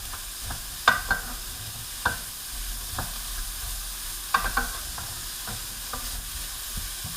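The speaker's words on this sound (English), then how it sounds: "Give that a little stir." Spoon stirring diced yellow and green vegetables sweating over low heat in a soup pot, with soft scraping clacks at irregular intervals over a faint steady sizzle, close and alone.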